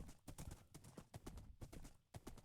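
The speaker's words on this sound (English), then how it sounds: "We're on a horse." In Minecraft, a horse's hooves clip-clop in a quick, even rhythm, close and fairly quiet, with no talking over them.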